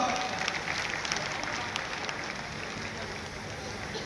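A crowd at a state-level Maharana Pratap Jayanti event applauds Kartikeya Rana, dense sustained clapping spread across the whole stretch, loud at first and easing slightly as it continues.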